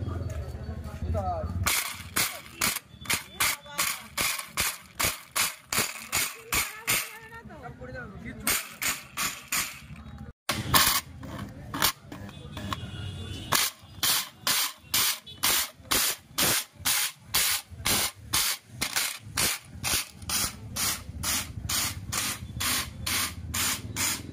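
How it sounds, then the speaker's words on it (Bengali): Stones are ground to powder in a kitchen mixer machine, producing rapid, loud repeated grinding bursts in a pulsing rhythm, close and harsh, with brief pauses between runs. "এই দেখো পাথর দিচ্ছি, এখন গুঁড়ো হয়ে যাবে।"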